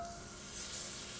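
A brief, steady crackling sizzle of butter melting in a hot, preheated Dutch oven, close by and quiet, with no voices.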